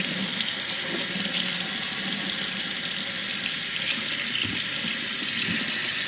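Cold tap water runs steadily onto a vintage 1995 G.I. Joe Sgt. Savage desert-camo action figure, a continuous close hiss and splash from a faucet with no pauses.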